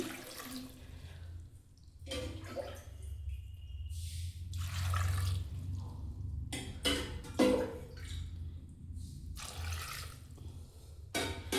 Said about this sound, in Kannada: 1-2 ಗ್ಲಾಸ್ ನೀರು ಹಾಕಿ